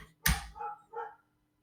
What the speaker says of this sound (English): can you hear my neighbor's dog barking?